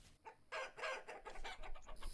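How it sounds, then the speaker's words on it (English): A chicken in the survival video game Vintage Story clucks in a rapid burst of short, sharp clucks, close and fairly quiet, with no talking over it. "Get over here, chicken."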